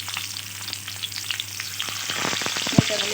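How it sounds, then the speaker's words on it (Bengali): Banana flower pieces sizzle and crackle steadily in hot oil, with occasional stirring clinks and sharper pops toward the end. "এবার আমি ওই তেলে মোচাগুলো ভেজে নেব।"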